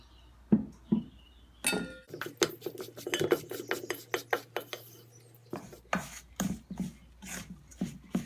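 Quinoa, baking powder, salt and olive oil stirred together in a bowl, heard as close, rapid clinks and scrapes of a utensil against the bowl in quick bursts, with brief pauses.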